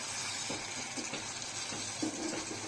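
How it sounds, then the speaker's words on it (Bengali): Chapa dried fish sautéing with spices in a pan over low-medium heat, a steady soft sizzle with occasional stirring scrapes, close and continuous with no talk. "এখন ভালো করে চাপা শুটকিটাকে মশলার সঙ্গে কষিয়ে নেব"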